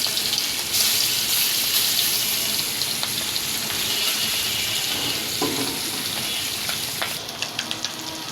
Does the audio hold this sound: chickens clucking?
no